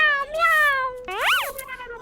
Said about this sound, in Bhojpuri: ये बिलाई कहाँ बोलत यार?